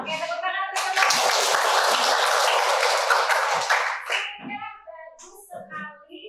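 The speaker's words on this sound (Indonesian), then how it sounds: "Oke, tepuk tangan untuk teman-teman." A class of students claps together for their classmates in a loud burst of applause lasting about three seconds, followed by a teacher talking and some children's voices.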